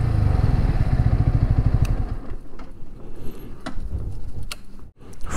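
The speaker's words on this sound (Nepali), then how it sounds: "यही हो साथीको जिक्सर 150।" A Suzuki Gixxer 150 motorcycle rumbles nearby with a rapid, even engine pulse. It fades after about two seconds into quieter ambient clatter and faint clicks.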